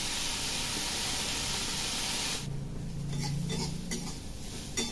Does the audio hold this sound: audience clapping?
no